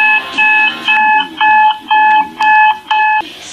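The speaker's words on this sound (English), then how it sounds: "Time to wake up. I have to get a new alarm clock." An alarm clock ringing in loud, repeated electronic beeping bursts, about seven evenly spaced pulses that sound close and piercing, then stopping abruptly.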